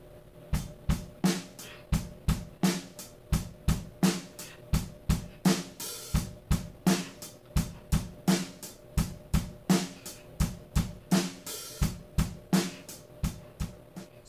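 Straightforward rock drum-kit verse beat, kick, kick, snare pattern repeating steadily with sharp hits and cymbal wash, played alone, loud and close.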